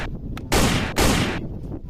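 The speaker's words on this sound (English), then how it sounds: "This is Captain America gun!" A toy Captain America gun fires two loud, harsh electronic blasts in quick succession, each about half a second long, up close over faint background noise.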